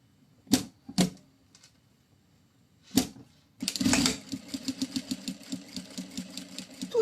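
A sewing machine stitches a pocket onto a bag's lining, starting with a few separate clacks and then running into a fast, even, rattling stitch near the microphone.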